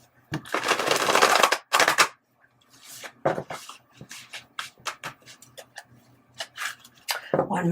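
A deck of tarot cards shuffled close up in a riffle-and-bridge pattern, a long dense burst followed by a series of shorter snaps and flutters, with no talk over it.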